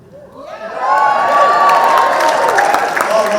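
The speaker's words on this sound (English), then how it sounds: "Whoa, I heard you cheering a little too loud" An audience at a university Persian Students Association show breaks into loud cheering and applause, swelling quickly from quiet into a sustained roar of whoops and shouts filling the hall.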